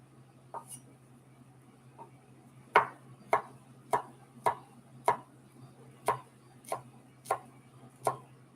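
A knife minces garlic on a cutting board in a kitchen, with a few tentative taps followed by a steady run of crisp, evenly spaced chops close up.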